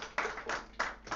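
A small gathering of people clapping to welcome each other at a church meeting, a few brief bursts of hand claps separated by short pauses, close and moderately loud.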